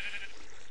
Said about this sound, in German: Schon wieder ist hier so viel Schafe.